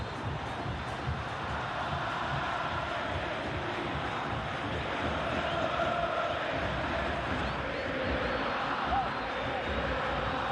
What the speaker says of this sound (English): Just listen to the crowd here.